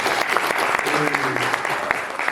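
Brisk applause from an audience at a debate on engineering education, dense clapping throughout, with a voice speaking over it.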